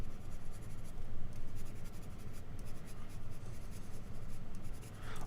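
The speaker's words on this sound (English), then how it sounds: "I'll go in there with another pencil and bring out individual trees here and there" A pencil scratches steadily across paper while drawing misty trees in a mountain landscape, a continuous close scribbling texture with short rhythmic strokes.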